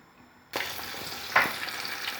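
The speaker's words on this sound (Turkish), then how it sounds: "Kızgın yağda kızartacağız arkadaşlar." Pieces of floured palamut (Atlantic bonito) drop into hot oil in a pan and erupt into a loud, steady sizzle with crackling pops, close by and continuing after a brief bubbling burst.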